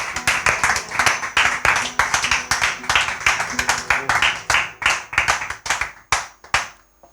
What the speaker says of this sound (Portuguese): Podemos dar um aplauso sem medo.